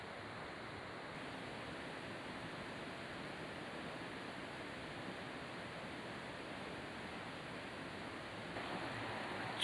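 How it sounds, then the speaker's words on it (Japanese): A small stream flows beside a 200-year-old Japanese maple, giving a steady, even rush of water that holds at one level throughout with no voices. "近くには川が流れてますね"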